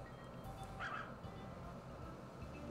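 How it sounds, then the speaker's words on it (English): A dog barks in the farming video game Story of Seasons, a sudden short yip-like bark at moderate level over a steady background of game music. "Your dog scared me half to death barking like that all of a sudden."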